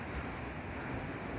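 The Mandakini river on the snowy route to Kedarnath flows as a dense, loud, steady rush of water with no breaks, mixed with wind across the microphone.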